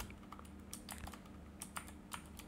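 Typing on a computer keyboard: quiet, irregular key clicks in short clusters, close-up and faint over a low steady background hum, with no talking.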